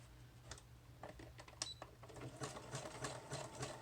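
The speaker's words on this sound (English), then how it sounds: "I'm just showing you sewing in case you want to sew it" Sewing machine stitching millinery ladder pockets, a close rapid mechanical clatter in short bursts with brief pauses, fairly quiet and alone.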